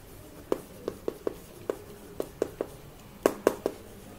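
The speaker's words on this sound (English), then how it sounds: "Let's write it again neatly." Close, dry taps and short scratches of a pen writing math on paper, in an irregular run of about a dozen quick strokes, alone against a quiet background.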